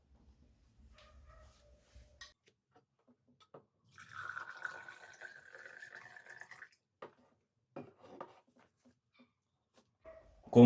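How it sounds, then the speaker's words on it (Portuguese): Water pouring into a glass cup, a faint, steady trickle with a rising tone lasting a few seconds amid quiet handling noises, close and soft. "vamos colocar água no primeiro copo."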